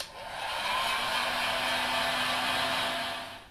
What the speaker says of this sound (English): So, back with a heat gun.